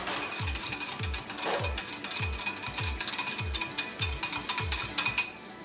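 Old Bay seasoning is stirred in a bowl, a utensil scraping and clinking in a steady repeating rhythm about twice a second, close and fairly quiet, with no voices.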